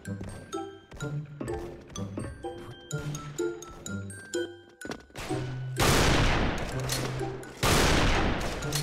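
Gunfire from an AEROBICS TAC-50 rifle in a video game, a string of loud, sharp shots over busy game sound effects, ending in two heavy, sustained blasts that fill the mix.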